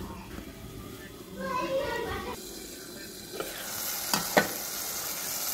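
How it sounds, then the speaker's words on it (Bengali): Sarputi fish curry with cauliflower is stirred while it fries in a pan, giving soft sizzling and a few light scrapes and knocks, fairly quiet, with faint background voices. "একটু পর পর ঢাকনা উঠিয়ে নেড়ে চেড়ে দিব। ভালো করে তরকারিটা কষাবো।"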